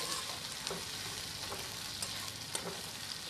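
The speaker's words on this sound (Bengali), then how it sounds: "এরপর আদা আর রসুনের পেস্টটাকে বন্ধুরা আমি দিয়ে দিলাম, দিয়ে আবার খুঁটি দিয়ে নাড়াচাড়া করতে হবে।" Ginger garlic paste fries in hot oil, a steady soft sizzle broken by a few scraping strokes of a spatula stirring the pan, fairly quiet and close.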